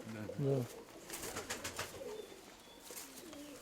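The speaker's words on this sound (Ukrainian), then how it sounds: "Оце голуб авторитетний провірений не раз." A pigeon coos close by in a short burst at the start, followed by quieter rustling and faint voices in the background.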